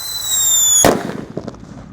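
A Blackbuster firecracker whistles high for almost a second before going off in one sharp, loud bang, followed by a short crackling tail that fades quickly.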